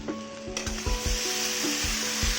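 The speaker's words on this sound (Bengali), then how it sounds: "এখন আমি মাংসটা সঙ্গে ভালো করে নাড়াচড়া দিচ্ছি" Marinated meat is stirred in a hot pan with ginger, giving a steady sizzle broken by repeated scraping strokes of a spoon against the pan about every half second, close and fairly soft.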